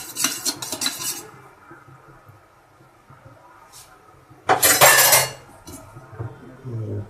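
A corn flour mixture is poured into milk in a pot and stirred fast with a utensil for a milk dessert, giving scraping and clinking against the metal in bursts, loudest in a dense stretch near the end, with no talk.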